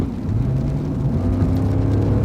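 A Lexus V8 engine rumbles with a deep, muted growl, its pitch rising smoothly as the car accelerates.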